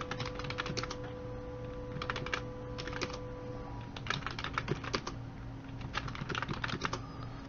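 Fingers tap on a computer keyboard entering data into a spreadsheet. Quick clusters of light, close keystrokes come in several bursts separated by brief pauses.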